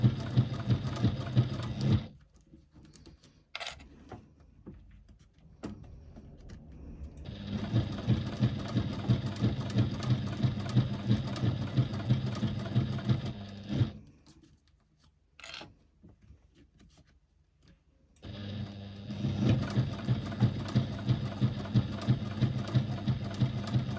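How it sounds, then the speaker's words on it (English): A sewing machine stitching a press bag close to a fold runs in steady, fast mechanical bursts, pausing twice briefly before starting again, loud and close with no talking. "Again, I'm stitching as close to the fold as I possibly can."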